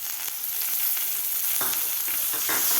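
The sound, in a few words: sautéing boiled peas in spice masala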